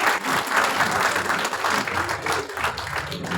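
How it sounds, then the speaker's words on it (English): Steady applause from an audience at a consumer awareness programme prize-giving, many hands clapping densely and evenly for the winners, fairly loud and continuous without speech. "Keep clapping for these winners."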